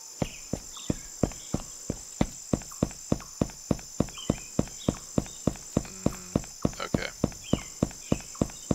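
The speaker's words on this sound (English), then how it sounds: "I want to test out the sprint too to see if our footsteps sound like they're coming quicker and closer together." Rapid, evenly spaced footsteps of a character sprinting in the AnyRPG video game, sharp regular thuds about three per second over a steady high hiss, with a faint voice briefly underneath.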